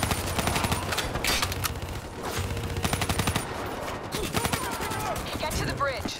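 Dense video-game gunfire from Call of Duty Black Ops 3, heard as sustained rapid automatic bursts and overlapping shots giving cover fire through the whole stretch, with voices speaking intermittently in the battle.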